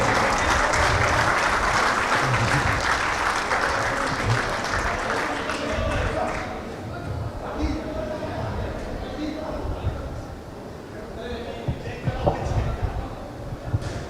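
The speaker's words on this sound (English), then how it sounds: "Round of applause for Mr." A room full of people applauds warmly for a guest at an indoor cricket tournament evening between UAE and Sri Lanka; the clapping is loud and dense at first, then thins and fades to scattered claps.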